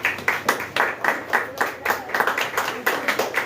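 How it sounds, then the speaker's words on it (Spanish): Congregation clapping in rhythm during a Spanish-language church service on a Sunday morning, a steady beat of synchronized claps at a quick, even pace, moderately close. "Un aplauso al Señor nuestro Dios en esta hermosa mañana."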